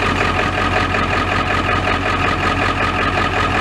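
Ford F-350 XL with a 7.3L Powerstroke turbo diesel idling roughly after hard starting, a loud, steady low rumble with a faint rhythmic pulse, close up, no talk.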